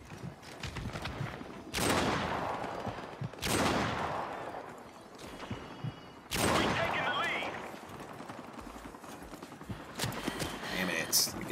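Gunfire from a shooter video game, with several loud, sudden bursts that each fade into a long tail, spaced a few seconds apart over steady game noise and a talking voice.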